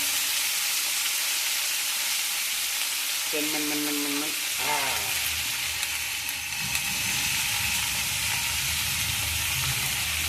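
Spiny gourd (kheksa) and potato mixture dropped into hot oil with spluttering mustard seed tempering, giving a loud, steady frying sizzle that swells after a brief clatter of the vegetables hitting the pan, with no talk.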